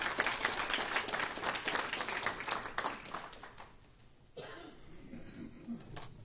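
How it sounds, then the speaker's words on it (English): An audience at a county spelling bee claps for a few seconds in a dense patter that thins out and fades, leaving quiet room noise and a few scattered claps. "Give her a big round of applause."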